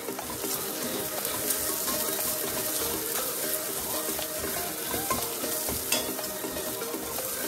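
Onions frying in a pan toward light golden brown, a constant close sizzle with frequent spatula scrapes and stirring clatter, fairly loud, no speech.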